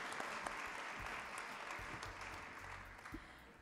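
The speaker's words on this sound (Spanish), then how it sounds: "Les brindamos un cariñoso aplauso, por favor, a la directiva del cuarto año A." Warm applause from an audience at a graduation ceremony honoring the fourth-year A class board, a soft, fairly distant spatter of many hands clapping that slowly thins out.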